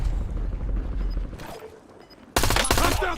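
Shooter video game gunfire: a rattling volley of shots at first, a brief lull with faint distant pops, then a sudden loud close burst of rapid fire to the end.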